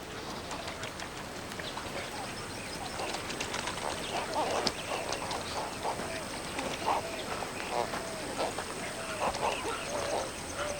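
A large flock of flamingos calls across the Rann of Kutch desert wetland, a dense honking chatter of many birds that carries on steadily, with a narrating voice over it.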